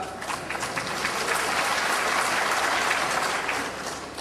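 An audience applauds the Chief Minister at the launch of Bihar's orchard-saving campaign; thick, continuous clapping from a large crowd swells slightly in the middle and tapers near the end, with no speech over it.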